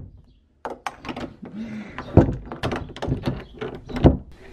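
A door is pushed shut with a dull thunk and some rattling, close by, amid handling noises and clatter in a room.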